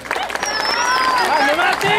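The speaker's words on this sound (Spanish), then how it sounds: "al que le pido un fuerte aplauso de parte de todos." A crowd in Del Viso claps for Matías Rossi, the Super TC 2000 champion. Dense clapping is mixed with shouting voices and rising and falling whistles.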